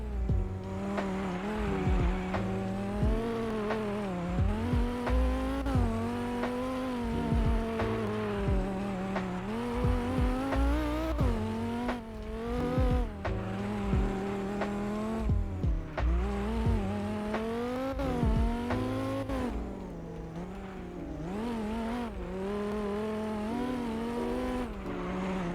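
Dodge Viper in a Roblox racing game revving and sliding, a continuous engine drone whose pitch rises and falls with repeated acceleration and a spin-out, heard alone without talk.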